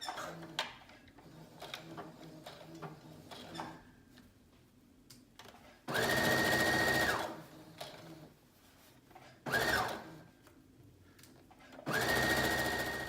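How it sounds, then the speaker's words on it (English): A sewing machine stitches around a pinned flounce on a one-shoulder dress, running in several close bursts of steady whirring with quiet gaps between them. "Now you are going to stitch all the way around, making sure to keep everything nice and smooth."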